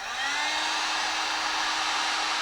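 A heat gun blows a steady, loud rushing whoosh while heating the final drive cover of a BMW K1200LT motorcycle, holding constant with no talk.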